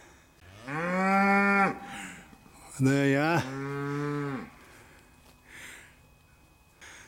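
Two long, deep moos from longhorn cattle nearby, one after another, with someone briefly speaking in between.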